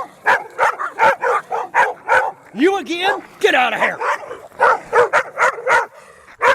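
Dogs barking at a thru-hiker on a road walk, a rapid string of loud yips and barks with whiny yelps in the middle. Someone speaks sharply over the barking.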